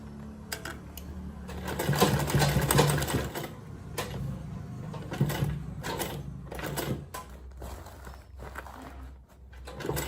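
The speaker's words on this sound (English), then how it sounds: "So I'll put my needle down. I'm almost getting to the edge of it." A sewing machine back stitches a shoulder bag in close, rapid bursts of needle clatter, starting and stopping several times.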